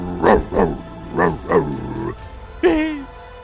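A dog in a video game barks four times in quick succession, then gives a higher, drawn-out yelp after a short pause; close and loud, with no talking.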